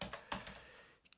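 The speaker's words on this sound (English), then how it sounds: "now let's type in" Keys on a computer keyboard are tapped in a few quiet, separate clicks, close up and faint, with no talk.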